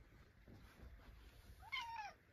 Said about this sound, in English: What's up, Kitty Witty? Yeah, I know, it's rain